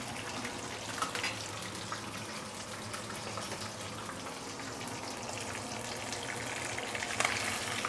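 Fish frying in oil in a pan and being flipped over partway, a dense, steady crackling sizzle that holds throughout at moderate volume, with a faint clatter near the end.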